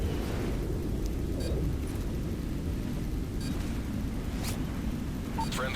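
A bomb detonates in the Call of Duty MW3 video game, heard as a loud, sustained booming rumble that fills the whole stretch, with no talk over it.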